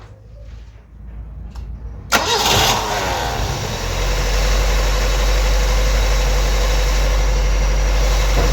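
A carbureted Toyota engine, fitted with a new carburetor, is heard first as quiet shuffling. It then cranks and catches with a sudden loud start, settling into a steady, close, rumbling idle that continues with no one speaking.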